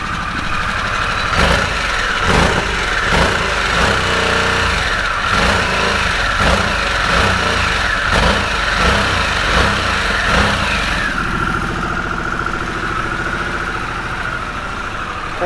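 Harley-Davidson Sportster S motorcycle engine running loud and close, a deep uneven idle with a few sharp throttle blips, then settling into a steadier rumble.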